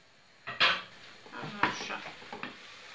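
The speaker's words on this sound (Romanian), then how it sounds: "Punem căpăcelul, mai lăsăm un minut" A lid clatters onto a frying pan of potatoes and meat patties, with a couple of close metallic knocks and scrapes over a soft sizzle.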